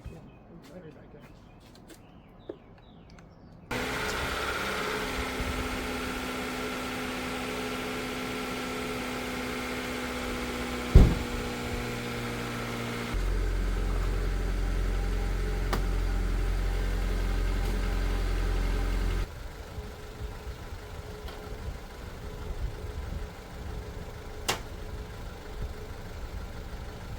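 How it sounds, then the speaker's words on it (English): A 1994 Acura Integra engine starts after the battery is reconnected and settles into a steady idle, a low continuous drone with one sharp click partway through and a shift in level later on. "it helps to turn the car on if you plug it back in"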